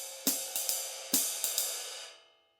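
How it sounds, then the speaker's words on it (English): Drum kit ride cymbal and hi-hat playing a basic swing time pattern with no snare comping, a handful of close, ringing cymbal strokes that decay into silence. "which is just ride cymbal and hi-hat"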